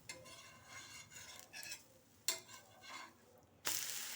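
Oil sizzles in a pan while frying, a soft hiss rising in bursts alongside scraping utensil strokes and a few sharp clinks against the pan.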